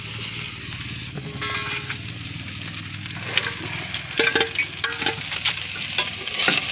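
Taro stolons (kochur loti) with brinjal and turmeric frying in a pan, with a continuous nearby sizzle and a spoon scraping and stirring in irregular strokes, clanking a few times toward the end.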